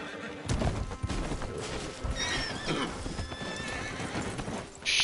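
Horse in Red Dead Redemption 2 neighing and whinnying over steady clip-clop hoofbeats, loud and close, with game ambience and a sharp crash near the end.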